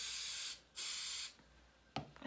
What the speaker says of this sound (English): Let me spray it with some hairspray